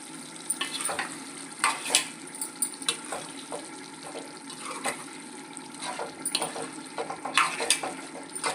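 Chicken curry stirred in a pan after masala and coriander are added, with repeated scraping and clattering strokes over a steady sizzle of frying, fairly close and loud, with no voices.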